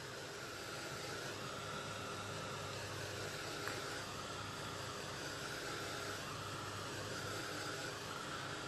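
A hair dryer blows on wet paint in a mixed-media journal, a steady even whooshing hum held close to the microphone throughout.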